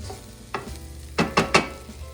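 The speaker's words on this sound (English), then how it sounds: "So you want to cook them for like 20 minutes, stirring them occasionally" Vegetables softening in a pan for shakshuka, stirred now and then: a low steady sizzle with a few scraping stirs, three close together near the end.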